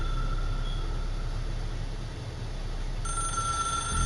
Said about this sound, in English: it's literally a red phone